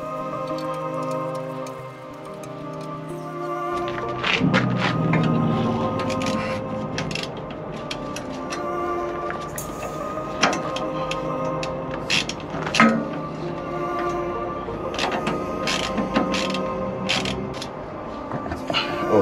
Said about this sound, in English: I'm gonna tighten the bolt.